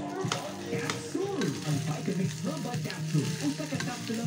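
Garlic fried rice being stirred in a pan, a continuous close sizzle with scraping stir strokes, and a voice talking over the cooking.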